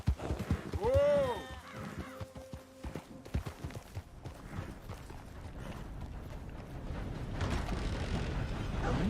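Horse hooves clip-clopping in Red Dead Redemption 2, a neigh near the start followed by steady rhythmic hoofbeats under game ambience and light rumbling.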